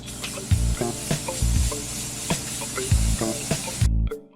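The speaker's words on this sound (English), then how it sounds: "So we're going to be spray painting it black first." Aerosol spray paint hisses in several short bursts as an album cover is coated black, each spurt separated by brief pauses and faint handling clicks, close and fairly loud.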